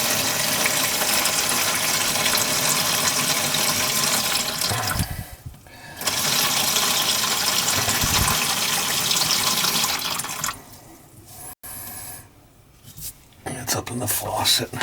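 Water gushes loudly and steadily from a disconnected faucet supply line under a sink, a continuous rushing flow that briefly drops off and then resumes.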